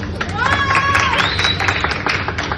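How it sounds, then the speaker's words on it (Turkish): An audience at a cooking demonstration on searing entrecote claps in a brisk burst of scattered handclaps, with voices and chatter mixed in among the clapping. "Bir alkışlayabilir miyiz?"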